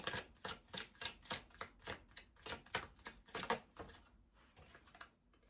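Tarot cards are shuffled and drawn in a quick, rhythmic run of soft papery flicks and slaps, about a dozen close bursts that thin out toward the end into quiet handling.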